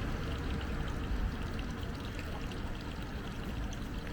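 Water from the Quattro Fontane, the four Late Renaissance fountains on a busy street corner in Rome, pours and splashes in a continuous, steady rush close by.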